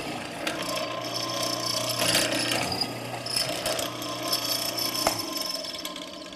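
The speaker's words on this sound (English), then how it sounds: "So that's how you cut a mortise with a benchtop mortising machine." A benchtop mortising machine works a hollow chisel bit into wood, giving a continuous motor whine with rough, grinding chatter and clunks as the bit plunges and clears waste in overlapping passes; close and steady, with no talking.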